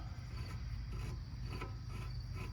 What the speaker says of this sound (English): Should be able to spin that bolt out now.